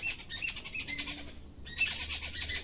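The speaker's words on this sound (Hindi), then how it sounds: "वहाँ पे है चिड़िया।" Small birds chirp and squawk in quick, repeated calls near a Himachal hillside home, a steady busy chatter with a brief dip before resuming.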